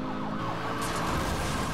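Wailing police car sirens in the racing game Need for Speed: Hot Pursuit, a rising and falling electronic wail over a roaring car engine, loud and close, short burst.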